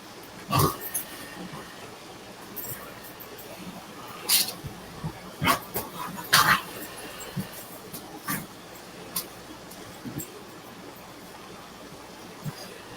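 Dogs outdoors at dusk let out scattered sharp barks and yips, some close and some farther off, with soft whimpering between them over a steady noisy outdoor background.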